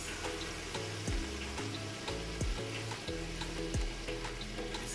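Masala lamb cooking in a pan, a continuous sizzle and crackle with repeated scraping and stirring clatters, steady and close, no voices.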